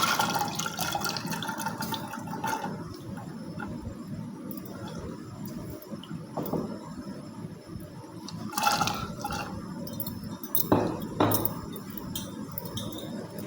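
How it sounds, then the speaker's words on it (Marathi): Soaked kidney beans and a cup of water go into a pressure cooker, with close splashing, pouring water and intermittent metallic clinks and clatter across the stretch. "राजमा जो सोक करून घेतलेला आहे तो ॲड करून घ्यायचा आहे."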